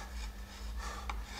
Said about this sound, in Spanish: Limpiar con la gubia